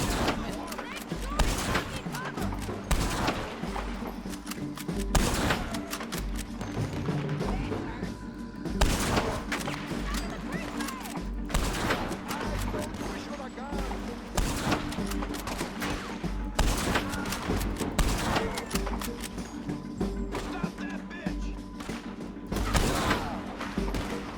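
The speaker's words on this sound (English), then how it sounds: "Shooting Sadie." Gunfire in the Western video game Red Dead Redemption 2: rapid, repeated rifle and pistol shots crack in bursts over a steady backdrop of game ambience and occasional booms, sustained firefight throughout.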